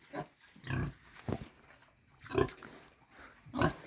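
Pigs grunt in short, separate bursts, several snorts spaced irregularly, close by and fairly quiet.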